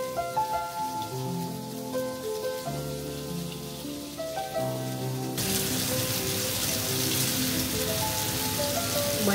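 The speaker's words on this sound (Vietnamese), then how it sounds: "Chiên áp chảo cho mình." Food pan-frying in a small amount of oil, not deep-fried, gives a continuous crackling sizzle that grows louder and denser partway through, with no voices.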